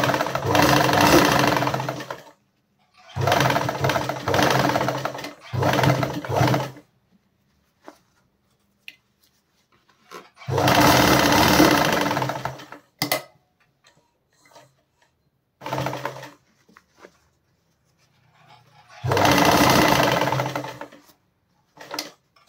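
A sewing machine stitches the hem of a pair of denim jeans in short loud bursts of rapid ticking needle strokes, separated by silent pauses, with a few brief clicks between runs.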